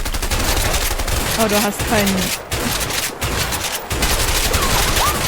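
MP5 submachine gun fire at a shooting range in the video game A Way Out, loud sustained automatic bursts with brief pauses, close, while people talk over it.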